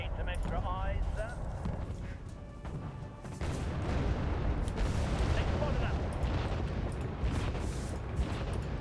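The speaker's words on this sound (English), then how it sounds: "Aslav keeps taking fire." Rapid gunfire and booming impacts pound an ASLAV armoured vehicle in the war game Wargame Red Dragon, dense rattling bursts and explosions mixed with voices talking.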